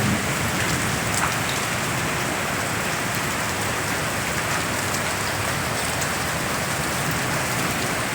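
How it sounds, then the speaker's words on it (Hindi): Heavy rain pours down without a break, a dense, loud, continuous hiss of drops hitting surfaces during a thunderstorm at an outdoor night religious gathering. "अभी भी लगातार झमाझम बारिश हो रही है"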